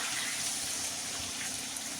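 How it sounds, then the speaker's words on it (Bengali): Water poured into a pan of fried spice paste while cooking a Bengali potato and papad curry: a steady, broadband gushing pour that runs the full length without a break, no voices. "এখানে একটু জল দিয়ে দিচ্ছি।"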